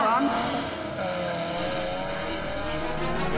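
A car accelerating hard, engine note climbing with a rising whine and rushing road noise, loud and close, voices faintly under it.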